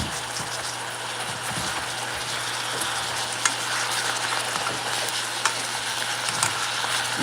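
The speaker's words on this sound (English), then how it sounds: "you see that the sausage is cooking down" Country link sausage frying and browning in a pan, a steady close sizzle with scattered crackles and pops and a low hum underneath.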